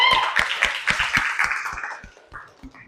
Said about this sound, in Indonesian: Tepuk tangan untuk Mbak April.